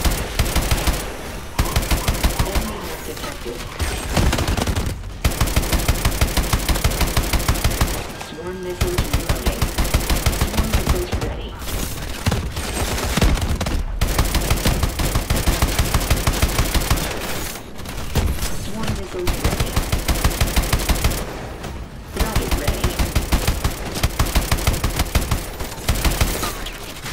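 Near-continuous automatic gunfire in the futuristic shooter game Call of Duty Advanced Warfare during a prison break mission, loud rapid bursts broken by short pauses, with a voice talking under the shooting.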